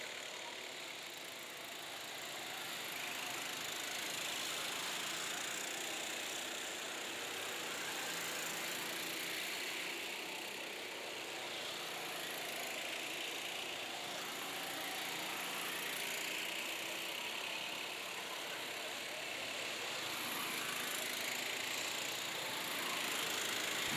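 Go-kart engines race around a kart track during a fan championship heat, a faint, distant, continuous buzzing whine that rises and falls gently as karts pass, no talk.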